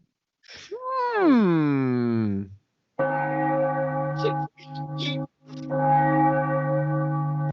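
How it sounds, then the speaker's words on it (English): A loud, close sliding tone gives way to sustained, ringing church bell tones in three bursts separated by short breaks, with no talking. "look, church bells are ringing"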